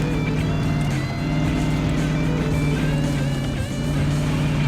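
Engine of an FJ Bruiser modded truck driving in SnowRunner, a steady low drone with tonal harmonics that runs continuously and loud throughout, alone without talk.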